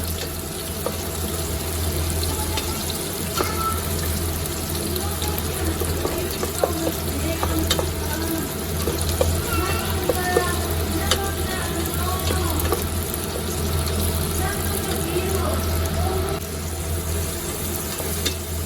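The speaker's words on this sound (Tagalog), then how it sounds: "nilagay ko na yung sibuyas at yung bawang, sinabay ko na" Onion and garlic sauté in a pan while mussel tinola is cooked, making a continuous hiss and crackle with scattered scrapes and clinks, fairly close and without talk.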